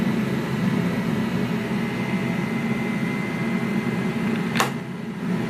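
A Tefal Actifry Express XL air fryer runs with a steady low hum and airy whir as its paddle slowly turns, broken by one short sharp click near the end.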